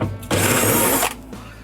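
A power driver whirs in one loud burst of just under a second, backing a 1/4 inch screw out of a refrigerator's back panel, close and alone.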